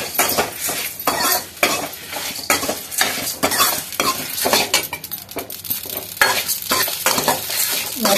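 Small shallots and garlic sauté in a pan with loud, rhythmic stirring, utensil scrapes and clinks against the metal over a continuous sizzle, close up and without speech.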